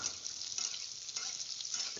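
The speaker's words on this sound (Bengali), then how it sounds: "পেঁয়াজটা দিয়ে ভাজা ভাজা করে নিয়ে আলুটা একটু লাল লাল হয়ে গেছে" Onions and potatoes frying in a pan, with a steady close sizzle and crackle of oil and occasional stirring scrapes running unbroken throughout.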